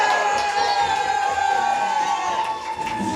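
A large crowd at a reading event makes a steady, dense wash of cheering and whoops that holds loud and even throughout, with a few voices rising above it.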